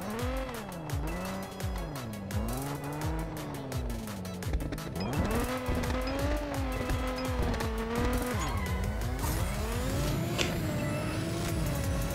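Race car engines in Need For Speed No Limits, including a Lamborghini Veneno, whining steadily with pitch rising and falling through gear shifts, plus squealing tires and skids, loud and continuous.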